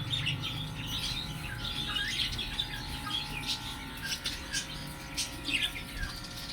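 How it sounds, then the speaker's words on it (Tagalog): Lovebirds in an aviary full of nests chirp and tweet in short, bright bursts, several overlapping calls repeating unevenly at moderate volume with no one speaking. "Ito ay lovebird."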